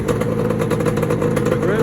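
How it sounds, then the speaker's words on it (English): A Yamaha Banshee 350 motorcycle engine runs with a steady two-stroke drone at close range, a continuous rough idle with no clear start, overlaid by talk. "imagine this bike with some super clean, turn it on."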